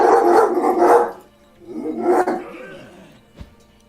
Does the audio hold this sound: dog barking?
yes